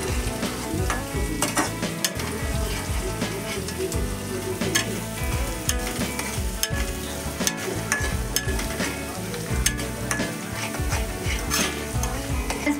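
Onions for a potato curry fry fast in a pan until pinkish, a loud continuous sizzle with constant stirring and spoon scrapes throughout, no talking.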